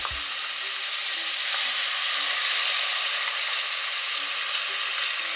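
Kettle and Fire bone broth poured into a hot pot, giving a steady, close sizzle and hiss of liquid hitting the hot surface that holds throughout with no talking.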